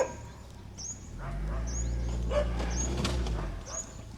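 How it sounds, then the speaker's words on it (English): Several dogs bark around a street, sharp yelps and barks scattered over a low rumble of traffic, with birds chirping faintly in the background. "curious dogs that are barking all around me"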